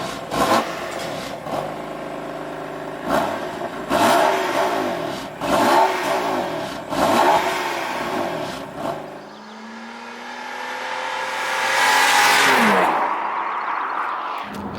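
A BMW M4 with a DCT gearbox revs hard in a series of loud, rhythmic blips, then accelerates away with a rising, roaring engine note that swells and fades.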